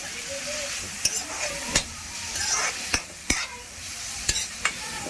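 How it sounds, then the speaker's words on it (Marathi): Broccoli and ginger-garlic paste sauté in a hot pan for a broccoli fry bhaji, a steady close sizzle broken by several sharp clinks and scrapes of a spatula stirring against the metal. "अद्रक लसूणची पेस्ट, ब्रोकोली घालूया। परतून घेऊया।"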